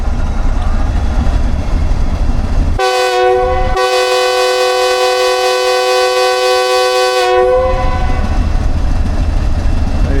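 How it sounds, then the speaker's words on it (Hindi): The 28 Down Shalimar Express sounds its departure horn: one short blast, a brief gap, then a long, loud, steady multi-tone horn held for about four seconds over station background noise. "किसी वक्त भी डिपार्चर हॉर्न होगा। 28 डाउन शालीमार एक्सप्रेस का।"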